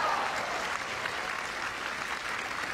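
Dense, steady crowd applause fills a tennis court during a match between Benoit Paire and Liam Broady, a continuous wash of clapping close and loud throughout.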